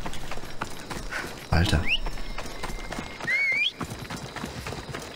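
Horse hooves clip-clopping in Assassin's Creed Odyssey, with two short whinny-like calls rising above steady ambient game sound while someone talks over it.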